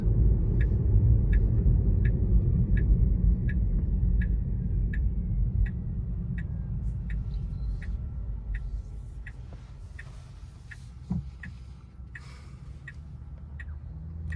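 A car's turn indicator ticks in a steady, evenly spaced rhythm while the car makes a left turn at a traffic light, with a low engine and road rumble underneath that slowly fades.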